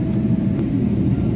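Steady low rumble of an airliner cabin while the plane waits at a Chicago airport before takeoff, a continuous near engine drone with no talk.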